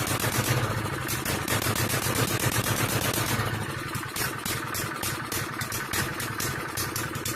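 Small stationary engine fitted to a bicycle revving up, a dense rattling buzz with rapid firing pulses that rise in pitch partway through, close and fairly loud with metallic clatter.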